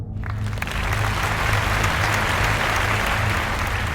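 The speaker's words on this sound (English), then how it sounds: "Thunderous applause greeted the Russians' concluding words." Thunderous applause from a large audience after a Russian delegation's concluding words on peaceful coexistence and disarmament, a dense, loud, sustained roar of clapping that swells in quickly and holds steady without talk.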